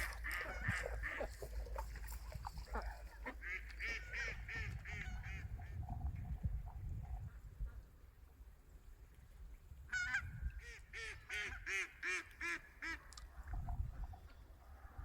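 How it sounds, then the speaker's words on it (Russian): Wild migratory ducks at a pond in the Orto-Doydu zoo in Yakutia call in bursts of nasal quacks and honks. Several birds call at close to middle distance over a low background rumble, with no talking. "Утки здесь настоящие дикие, перелетные."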